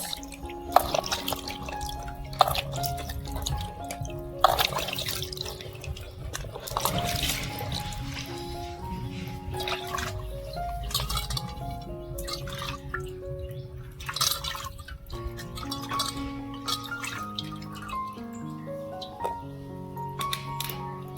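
Water runs and drips steadily as mud crabs are washed clean in a kitchen, with splashing and small wet knocks throughout, and no talking.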